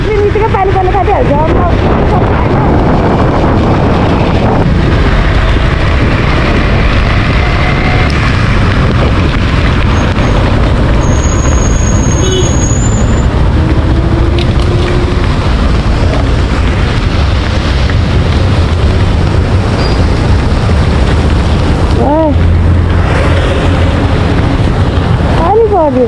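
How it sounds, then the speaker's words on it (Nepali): Rain and hail fall in gusty wind outdoors, a loud, dense, steady roar with heavy wind buffeting on the microphone and occasional talking over it. "पानी पर्यो असिना झऱ्यो पानी छिटाउनु थालिसक्यो"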